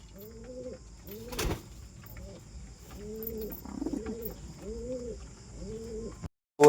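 Pet pigeons coming to feed give a series of soft, rhythmic coos, about six repeated phrases close by, with a brief knock partway through and faint background hum.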